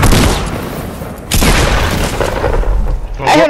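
Gunfire in the video game Fortnite, a loud, booming burst of rapid shots up close, then a short pause and a second burst.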